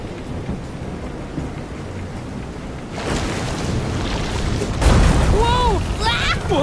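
Thunderstorm with heavy rain in the game Visions of Mana, a steady downpour that swells louder midway with a deep rumble, while whooping, warbling calls rise over the storm near the end.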